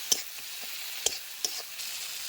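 Oil sizzling with turmeric in a pan for a potato and eggplant curry, a steady soft hiss broken by a few sharp clicks of a spatula, close and fairly quiet.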